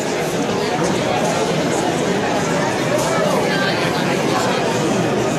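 A large, growing indoor crowd at a Bernie Sanders campaign event fills the room with steady, dense babble of many voices, continuous and close, with no single voice standing out.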